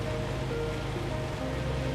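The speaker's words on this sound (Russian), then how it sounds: "Это река Менде." The Mende river near Yakutsk flows in a soft, steady wash of moving water, faint and continuous, with no voices.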